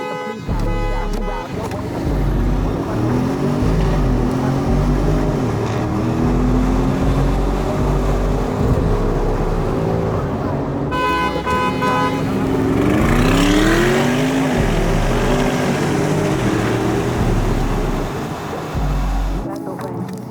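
Porsche Cayennes, a hybrid and a heavier non-hybrid, accelerate hard, their engine note rising through gear changes with loud wind and road roar around them.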